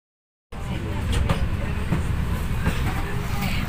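A crowded passenger train rolls along after a brief silence, giving a steady interior rumble with faint rhythmic rail clicks. The sound is moderately loud and continuous, with murmured voices in the carriage.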